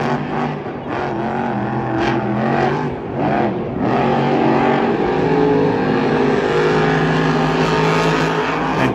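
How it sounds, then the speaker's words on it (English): Monster trucks race side by side at a Monster Jam stadium event in Anaheim, engines roaring loud and continuous with surging revs throughout, crowd noise blended underneath. "Now Corey Rummel and Megalodon takes on Greg Champion and El Toro Loco."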